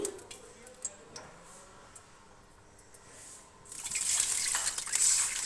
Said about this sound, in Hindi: साथ ही इसमें मैं ऐड करूँगी पानी।